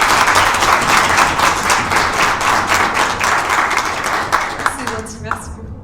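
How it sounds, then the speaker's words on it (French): A conference audience at a gaming show applauds a voice actress with loud, sustained clapping from a large crowd, fading out at the end as a voice begins speaking. "Je vous demande de l'applaudir très fort."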